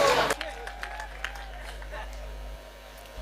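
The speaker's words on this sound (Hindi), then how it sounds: "तालियां हो जाए आपको" Audience applause at a live comedy show, a brief burst of clapping at the very start that quickly fades into low crowd murmur.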